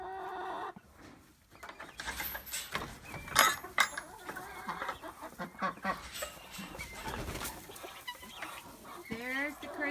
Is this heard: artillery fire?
no